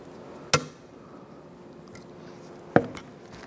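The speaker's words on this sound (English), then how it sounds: "I wanna go ahead and install our snap ring right here. So we're gonna use our pliers." A snap ring goes onto a Honda Accord upper ball joint with pliers, producing two sharp metallic clicks about two seconds apart, the second followed by a faint echo, against a quiet background.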